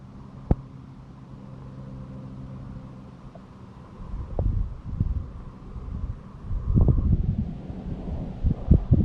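Wind gusts outdoors against the microphone, a low rumbling buffet that builds in stronger bursts toward the end, with a few faint knocks and no voices.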